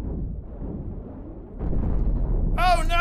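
Destroyer cannon fire and explosions from the space combat game Cosmoteer, low rumbling booms that swell louder partway through, ending under a bright rising electronic tone.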